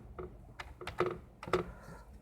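Someone types code on a computer keyboard, a few irregular clusters of close, crisp key clicks spread across the moment, with quiet pauses between bursts.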